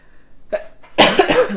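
A close, sudden cough, a short sharp burst followed by a couple of rougher throaty bursts.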